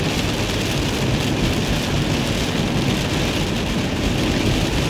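Heavy storm rain pours down in a dense, loud, unbroken roar at night, with no breaks and no voices.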